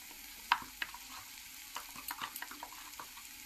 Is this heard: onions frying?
yes